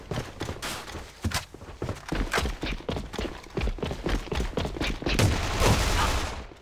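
Video game gunfire rattles in dense, rapid bursts, loud and close, one shot after another with only brief gaps and no talk over it.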